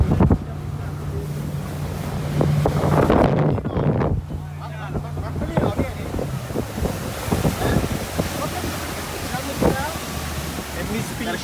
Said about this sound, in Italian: c'è tanto vento che viene verso sud, da sud